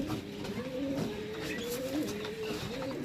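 Pigeons cooing close by in a loft or coop, a steady run of soft warbling coos rising and falling over about three seconds against a faint background hiss, with no voices.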